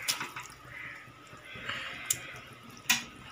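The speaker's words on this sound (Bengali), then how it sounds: "ঝোলটা আমার ফুটে গেছে" Curry broth for a pointed gourd and prawn curry bubbles in a pan, giving a soft, steady simmering hiss broken by a few sharp pops and drips.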